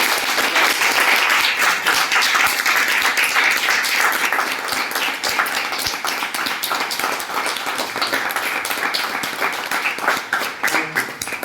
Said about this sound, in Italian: I would give a round of applause for Mr. Stine.